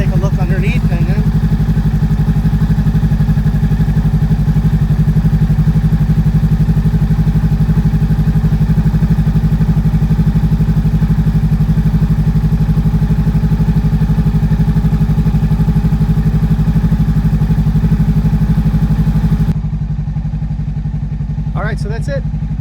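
A 2023 Honda Rebel 500 motorcycle engine idles steadily right after a yearly oil change, a loud, close, even low rumble that continues without revving before it abruptly drops near the end.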